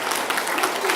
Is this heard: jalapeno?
no